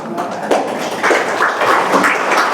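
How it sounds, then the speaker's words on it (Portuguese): Audience applause at an in-person Spiritist lecture, a steady dense patter of many hands clapping close by, swelling slightly midway and sustained without pause. "As palmas são para Jesus e Kardec, né?"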